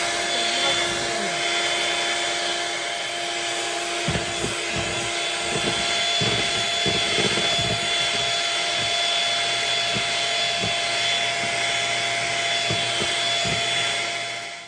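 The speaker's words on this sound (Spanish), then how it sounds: "Ya terminamos de batir las claras a punto de nieve." An electric mixer beats egg whites with a few drops of lemon juice toward stiff peaks, a constant high motor whine running loud and close throughout, with faint knocks against the bowl.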